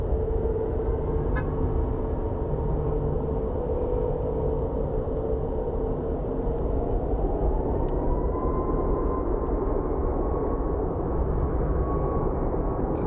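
A Boeing 737 MAX airliner headed to JFK roars steadily past an airport, its loud broadband engine rumble holding throughout while a whining tone rises partway through, with no voices.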